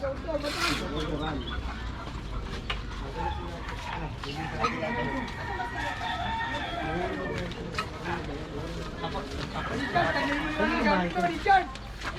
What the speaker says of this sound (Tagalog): Dami oh, daming manok.